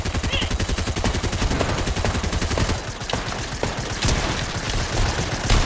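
Fortnite video game gunfire: loud, dense, rapid automatic shots rattle steadily through the whole stretch in near-continuous bursts.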